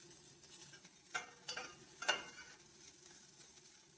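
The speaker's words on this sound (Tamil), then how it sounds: "இந்த கொத்தமல்லி தழை வந்து நல்லா வதங்கணும்." Coriander leaves sauté in a pan for a chow chow dish, giving a steady, soft sizzle close by, with a few louder stirring scrapes breaking through near the middle.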